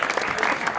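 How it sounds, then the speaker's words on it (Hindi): A short burst of audience applause for a grandfather during an interview show, dense clapping heard briefly and evenly at moderate loudness. "दादा के लिए तालियां।"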